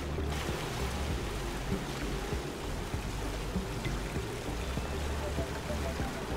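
Water pours out of a reservoir in the Oxygen Not Included game as a continuous, dense rushing and splashing wash. It stays steady and loud for the whole stretch, and a voice may sit faintly beneath it.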